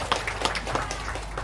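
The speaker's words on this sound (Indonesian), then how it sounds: "Tepuk tangan untuk kita semuanya." Brief group clapping at a community gathering after a team cheer: soft, slightly rhythmic claps from several people, moderately close, over a low background hum.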